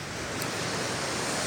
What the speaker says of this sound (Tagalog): Ganda ng dagat.